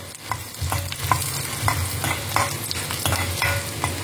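Toor dal and asafoetida frying in a pan give a steady, loud sizzle, broken by regular scraping strokes of a stirring spoon, close up and with no speech.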